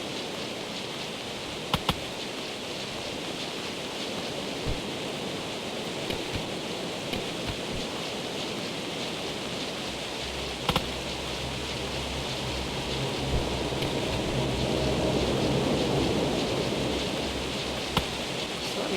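Steady rain pours in a dinosaur survival video game, a dense even hiss with occasional crackles and a low rumble swelling toward the end, with no talking.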